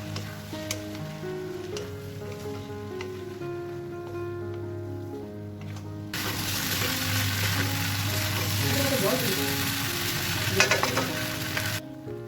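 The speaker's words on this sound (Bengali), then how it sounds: "এক মিনিটের মতো ফ্রাই হয়ে গেলে আমি এবার সাবুদানাগুলো অ্যাড করে দেবো এবং ভালোভাবে মিক্স করে নেব।" Sago pearls (sabudana) go into a frying pan for khichdi and are stirred: a soft sizzle with light scraping grows into a louder, steady frying hiss and continues until near the end.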